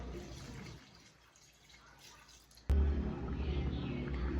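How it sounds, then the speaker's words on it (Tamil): A little water poured into a cooking pot while making egg fried rice, a soft trickle at first, then a sudden loud rush and hiss that continues steadily. "இப்போ கொஞ்சமாக நான் தண்ணி விடுறேன்."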